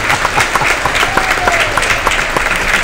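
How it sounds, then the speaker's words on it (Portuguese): Applause for a 2024 VW Polo Highline: dense, continuous hand clapping from a small group, close and loud, with a faint whistle-like tone rising briefly in the middle and no speech. "Uma salva de palmas para o Polão."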